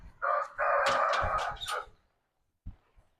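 A rooster crows once, loud and close, a long strained call that trails off, followed by silence and a faint thump.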